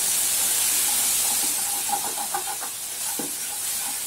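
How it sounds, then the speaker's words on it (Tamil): Spices and curry masala sautéing in a pan for a simple Indian lunch, giving a steady close hiss and sizzle throughout with faint clinks of a utensil. "இது எல்லாத்தையும் வதக்கிக்கலாம் நல்லா"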